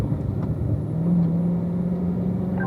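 A car engine pulls out of a corner on a race track and revs up through the gears, a low droning hum that rises steadily in pitch, moderately loud and muffled as if heard from inside.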